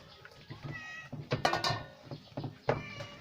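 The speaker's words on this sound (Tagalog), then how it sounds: "Maingay tong pusa ako, nagugutom na siya." A hungry cat meows repeatedly at close range during cooking, several drawn-out, insistent cries with short pauses between them and some faint background noise.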